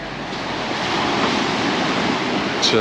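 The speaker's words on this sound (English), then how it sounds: "It's a little bit choppy, even though this particular beach is quite well sheltered." Choppy waves wash onto a sheltered beach in Mallorca, a continuous close surf rush with some wind buffeting on the microphone.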